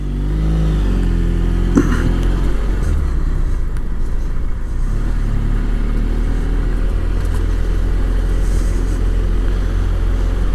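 A BMW F700GS adventure motorcycle rides along a Peak District road, its engine a steady close drone with a brief rise in revs early on, continuing without speech.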